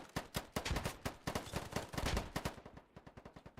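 Rapid bursts of video-game gunfire from enemies, loud sharp reports in fast automatic strings with brief gaps, then thinning to scattered single shots near the end.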